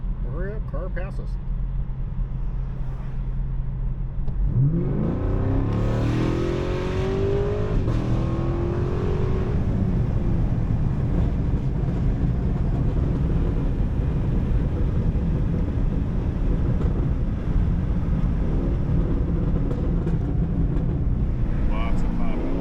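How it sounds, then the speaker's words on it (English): A 2023 Camaro SS with an MBRP axle-back exhaust drives at night, engine rumble and revving rising as it accelerates, with wind noise and scattered pops, while people talk near the microphone. "Lots of popping."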